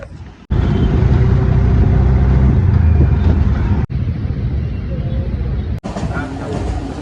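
Car engine and road noise heard from inside a moving car, a steady loud mid-range hum broken by two brief cuts.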